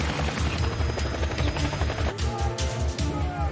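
Helicopter flying in during a night operation, heavy pulsing rotor thump steady and loud throughout, with sharp crackling bursts layered on top.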